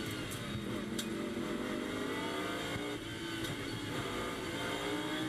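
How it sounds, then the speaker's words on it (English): Lamborghini Super Trofeo race car at Paul Ricard circuit, loud sustained engine roar as it accelerates down the straight toward the chicane, steady and continuous with no pauses. "car in the hands of Martin Kodric, and he accelerates them down to the chicane"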